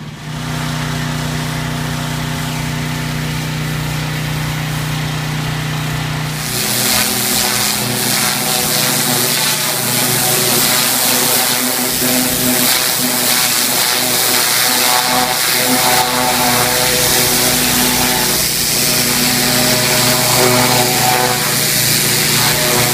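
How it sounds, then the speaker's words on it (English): A petrol engine-driven pressure washer running steadily, joined partway through by the louder spinning rush of a 20 inch surface cleaner cleaning a patio, a continuous close drone with no pauses. "Surface cleaner, it's a 20 inch one, makes life a bit easier."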